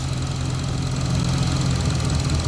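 A 1966 Pontiac Catalina wagon engine idles up close with a steady, even low rumble and hum that holds unchanged throughout, with no voices over it.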